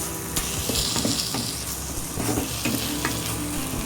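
A prawn malai curry masala being stirred in a pan, a steady sizzle and fry with repeated scraping strokes of the spoon running throughout at close range, no voice.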